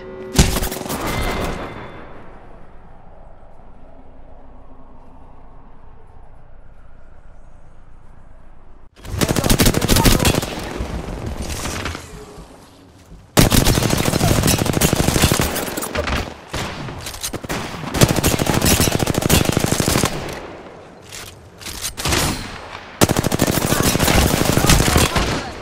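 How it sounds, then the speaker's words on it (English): Sustained bursts of rapid automatic gunfire in Apex Legends, loud and close, coming in several long volleys separated by short pauses after a quieter opening stretch. "Enemies right here. Getting shot at."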